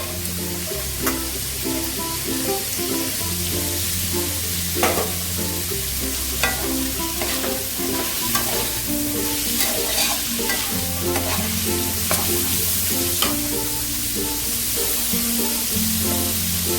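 Carrot, beans and capsicum stir-fried in a pan for fried rice, with a steady bright sizzle and repeated scraping, clinking stirring strokes close by and no voices.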